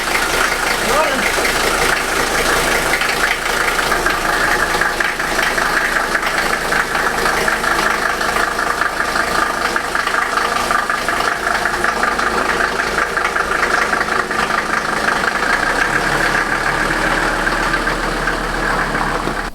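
A 1983 Mercedes 300TD diesel engine idles after a valve adjustment, a loud, steady clattering rumble close by with an even knocking rhythm throughout.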